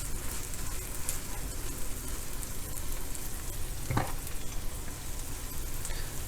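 Pork and bean burrito filling sizzles and crackles steadily in a pan after seasoning is added, with a brief stirring scrape midway, close and constant without talk.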